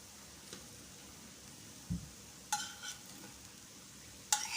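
A breakfast snack shallow-fries in two small spoons of oil over a low flame, a faint, soft sizzle with a few quiet clinks of utensils against the pan.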